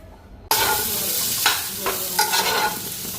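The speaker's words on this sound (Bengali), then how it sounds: "একটু আলু ভেজে দিই" Potatoes fry in a pan on a home stove, a loud continuous sizzle starting abruptly, with a few scraping stirs of a spatula breaking through close by.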